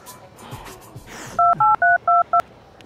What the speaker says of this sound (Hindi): काव्य को फोन लगाता हूँ